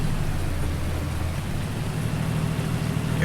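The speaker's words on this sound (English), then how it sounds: "And this is very persistent rain. It's been around for many hours." Steady, persistent rain falls in Farming Simulator 19, a continuous even hiss with a faint low hum underneath and no voices.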